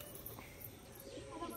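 A pet pigeon with a long-feathered, handsome build coos softly in a loft, its low murmuring calls steady and close under faint background noise.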